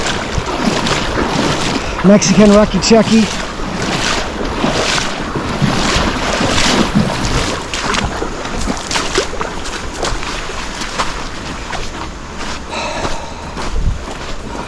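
A trail runner wades across a big river during the Hikuri 100K mountain ultramarathon near Puerto Vallarta, Mexico, with steady rushing water and wind buffeting the microphone, and a voice speaking briefly over it.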